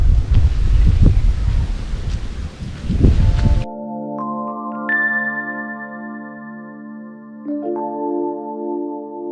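Strong wind at a seaside campsite roars against the microphone for a few seconds, then abruptly gives way to sustained electronic musical tones.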